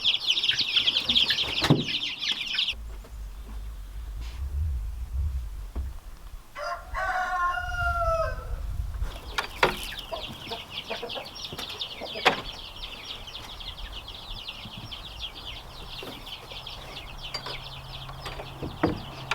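Chickens in a coop cluck and a rooster crows, with bursts of wing flapping, all close by and with no one speaking.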